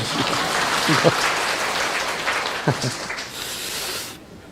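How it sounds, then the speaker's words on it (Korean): Church congregation applauding together in a sanctuary, a broad steady wash of clapping with a few voices mixed in, fading out abruptly near the end. "우리 박수로 한번 맞아주시고."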